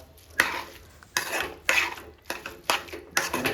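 Egg Maggi masala noodles get stirred in a pan, a spoon scraping and clanking against the metal in about six distinct strokes, close up, with a faint sizzle between them.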